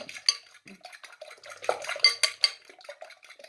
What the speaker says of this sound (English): Quite a nice soothing thing, whisking a few eggs in the morning